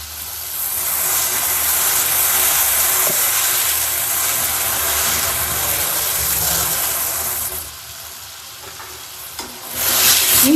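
A tomato and mushroom mix for mushroom sukka fries loudly with crushed ginger and garlic as it is stirred, a close, steady sizzle that drops briefly near the end before surging again.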